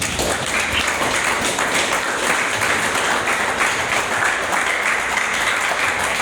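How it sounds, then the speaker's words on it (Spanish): A church congregation applauds during a sermon, with dense, sustained clapping from many people at a steady loud level throughout, and no speech over it. "Dele un aplauso al Señor."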